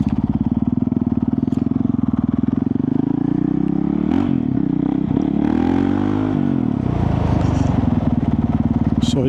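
Motorcycle rolling slowly through a park, its engine thumping steadily up close, with the pitch rising and falling as the rider gently eases on and off the throttle, plus light rattles.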